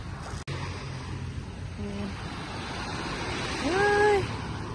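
Sea waves wash against a shore with clear water, a steady broadband rush that swells near the end, while people talk and exclaim nearby and wind buffets the microphone.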